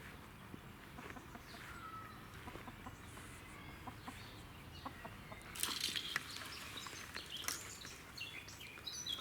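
Hens in a henhouse cluck softly and intermittently over a steady low background hum, with a brief burst of louder clucking and rustling partway through.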